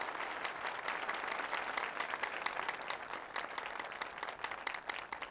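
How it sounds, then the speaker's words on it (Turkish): Studio audience applauding on a 1994 Turkish television talk show, steady dense clapping throughout, fairly quiet and with no talking over it. "Alkışlayalım bakayım ona."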